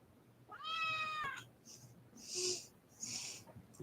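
A house cat meows once with a clear, drawn-out tonal call, followed by softer snorts and breathy sniffing sounds close by in a quiet indoor room.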